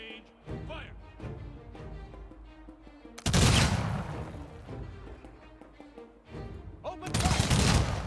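Game unit volleys in the strategy game Humankind ring out as two dense, loud bursts of massed gunfire, with softer spoken orders and background score in between.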